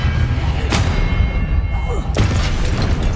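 Two Expelliarmus spells cast in a fantasy video game, each a sudden thudding boom about a second and a half apart, over a steady background of game ambience.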